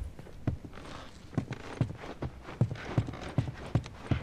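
Horses in The Last of Us walk at a steady clip-clop, hooves landing in an even rhythm of a dozen or so hits, close and fairly loud, with no talking.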